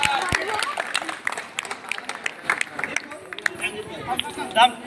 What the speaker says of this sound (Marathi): जोरदार टाळ्या वाजवा सगळ्यांनी